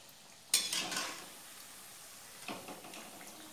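Coriander fritters (kothimbir vadi) fry on low heat in a pan. A sharp burst of sizzle and a scrape from the flip are followed by steady, softer crackling, then a second brief stir or scrape.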